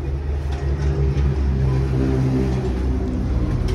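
The electric motor of a heavy-duty commercial four-hole hollow block machine runs steadily, giving off a loud, continuous low hum with a throbbing rumble and no voices.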